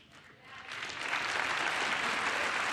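Audience applause at a State of the Union address swells from quiet to a full, sustained round of clapping from a large crowd, continuing strongly to the end.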